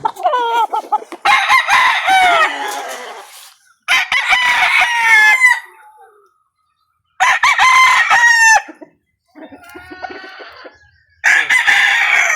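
A seven-month-old straight Sweater gamefowl rooster crows loudly and close, in repeated bursts with clucking between them and short silent gaps.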